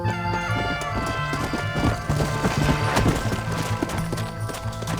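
Horse hooves gallop in a steady clip-clop rhythm through Red Dead Redemption, loud and continuous beneath a busy game soundtrack with no talk.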